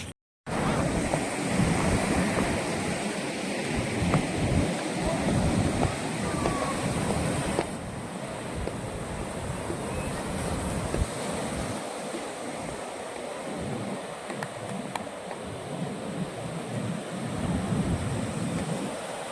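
Sea waves roll onto Netanya beach in Israel, a steady loud wash of surf with wind buffeting the microphone throughout, continuous broadband roar that swells and eases without pause.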